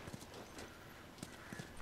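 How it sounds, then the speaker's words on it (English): Horse hooves clip-clop faintly in The Last of Us, a few sparse, soft hoof strikes over quiet ambient background, with no speech. "let me move the horse"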